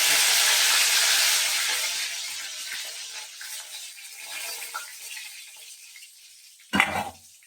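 Dried red chilies and curry leaves hit hot oil after mustard seeds, giving a loud burst of sizzling that gradually fades to a softer crackle, with a sharp clatter near the end.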